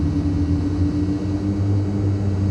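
Propeller aircraft engines in Microsoft Flight Simulator 2020 drone steadily and loudly, a throbbing low hum with tonal bands that holds level throughout, with no voices over it.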